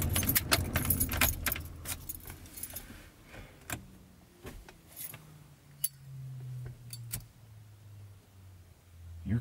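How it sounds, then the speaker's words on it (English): A car powering down at night: a low hum slowly falls in pitch and fades, mixed with jangling keys and scattered clicks and ticks nearby. "Your car sounds so cool when it powers down."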